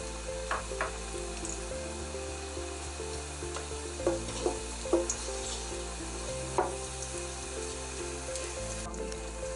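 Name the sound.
whole garam masala frying in hot oil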